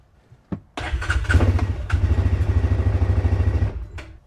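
A long-idle, rusty sawmill engine cold-starts with a sharp catch, then runs loud and close with a rapid, rhythmic chugging pulse for about three seconds before cutting out.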